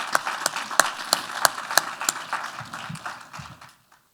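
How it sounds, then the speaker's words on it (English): Sponsors at an AIA architecture event receive a brief round of audience applause: scattered, fairly sparse claps with a few sharp louder ones, thinning and fading out toward the end. "Let's give them a round of applause as well."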